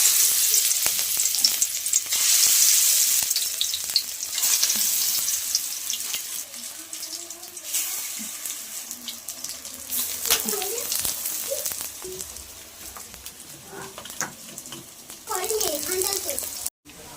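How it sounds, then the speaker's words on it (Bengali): Gime greens fritters coated in gram flour sizzling in hot oil in a kadai, a continuous crackling fry with occasional stirring clatter and brief bursts of spitting oil, mostly without talk. "আমি কড়াতে তেল দিয়ে দিচ্ছি, এবার আমি বড়াগুলো দিয়ে দিচ্ছি"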